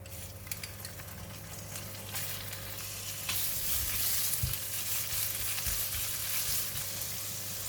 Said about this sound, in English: Switch on the heat again, and now I'm putting in the meat.